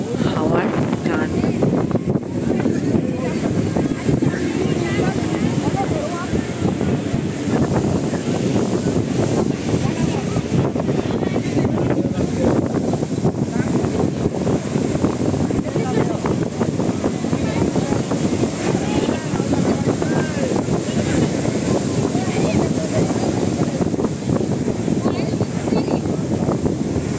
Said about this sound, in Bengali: আপনারাও শুনুন সমুদ্রের গর্জন আর তার সাথে হাওয়ার টান।